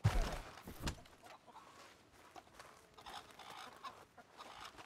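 Chickens clucking with a rooster among them in a Red Dead Redemption 2 farmyard, a loud burst at the start giving way to steady mid-level fowl chatter and game ambience.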